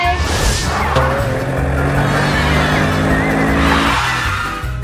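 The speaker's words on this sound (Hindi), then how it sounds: "ये देखो निकी, ये मेरी गाड़ी है।" A cartoon car revs and skids with squealing tires, loud and close, sweeping continuously amid bright animated-show sound effects.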